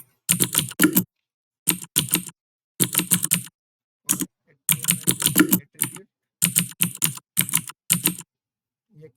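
Bursts of typing on a computer keyboard while HTML code is written, close and clear, with rapid key clicks in short runs separated by brief pauses and no talking.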